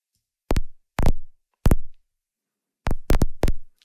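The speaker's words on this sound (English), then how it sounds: "And here you can add some crackling as well." Crackling effect from the Artifacts lofi processor plugin: six sharp, isolated pops with short decaying tails against silence, three spaced evenly, then a quicker cluster of three.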